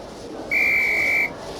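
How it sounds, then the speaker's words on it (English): A sharp referee-style whistle blast in the Harry Potter and the Philosopher's Stone PlayStation game, a single steady shrill tone lasting under a second over quiet game background. "On my whistle then."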